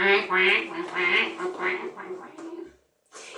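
A voice imitates a goose, giving a run of nasal honking calls in quick succession, loud and close, before a brief pause and one more call.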